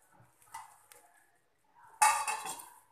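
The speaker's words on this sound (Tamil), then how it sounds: "இப்போ நம்ம இதை மூடி வைப்போம்" A lid set down on a cooking pot of ridge gourd: a short, bright metallic clatter near the end, after some faint kitchen handling sounds.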